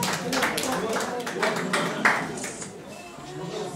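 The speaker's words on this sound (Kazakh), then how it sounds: "қошемет шапалақ болсын қаттырақ қаттырақ ағайындар" Wedding guests applaud in scattered, uneven bursts of clapping, heard under a loud announcer's voice calling over the crowd.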